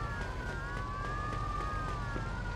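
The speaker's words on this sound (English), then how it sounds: "There's a police car there." Police car siren in the video game Mafia 2, a continuous wailing tone that rises and falls, heard at moderate distance over low background rumble, with no talking.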